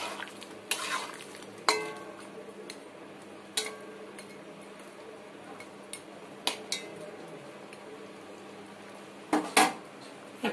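Katla fish curry with potatoes and lentil dumplings bubbling gently in a pot, a soft simmer broken by several sharp clinks and scrapes of a utensil against the pan.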